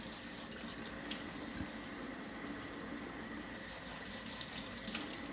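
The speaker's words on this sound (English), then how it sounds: "Now this is cold water, as cold as I can get it out of the tap." Cold water streams steadily from a kitchen tap while butter is being made, a continuous hissing splash with no talking.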